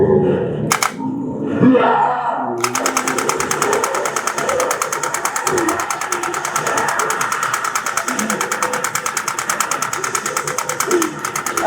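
Lightgun recoil solenoid firing on full auto with the trigger held down, a loud, fast, steady mechanical rattle that runs without pause from about the third second after a brief voice at the start.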